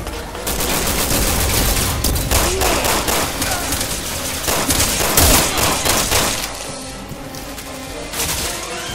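Sustained heavy gunfire in Resident Evil 6, dense overlapping shots and bursts filling the whole stretch, loud and close with barely a break.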